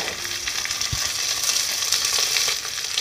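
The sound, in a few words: vegetables being added and stir-fried in a pan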